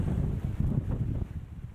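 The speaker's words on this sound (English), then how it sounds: "Strong wind gusts and drenching downpours." Strong wind gusts from Hurricane Ian buffet the microphone in a steady, rumbling roar with uneven surges, loud and close, with no voices.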